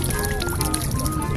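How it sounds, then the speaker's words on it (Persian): Someone drinking water, with a short stretch of wet liquid and swallowing sounds heard close up against a busy background. "دارم آب میخورم دیگه"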